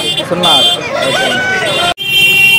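Loud, close chickens and roosters calling and clucking over each other in a crowded Sunday poultry market in Nellore, with a brief cut partway through.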